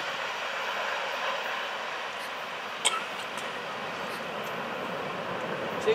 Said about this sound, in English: There's a short, fast train, a red-hot train, on its way south tonight